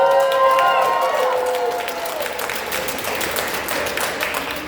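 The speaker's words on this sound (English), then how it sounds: "One more round of applause for Diane Ramos." A crowd at an End Poverty Now rally in New York State applauds. The clapping and cheering swell together as a speaker's amplified voice trails off at the start, then the crowd noise fades gradually.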